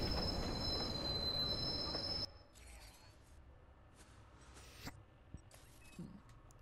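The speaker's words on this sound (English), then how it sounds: "Northbound train arriving shortly." A northbound train arrives at a station in the video game Watch Dogs, loud screeching wheel squeal and rolling rail noise for about two seconds, then cutting to quiet station ambience with a few faint clanks and thuds.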